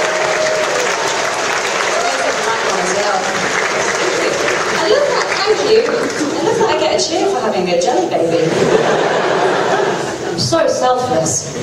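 An audience at a Jenna Coleman panel at Armageddon Expo in Auckland, 2014, cheers and applauds in a dense, loud, sustained roar of clapping mixed with laughter and chatter.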